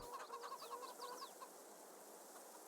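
Chickens clucking in the Farming Simulator 22 farming game, a short run of close, rhythmic clucks over the first second and a half, then a quiet steady ambient hiss.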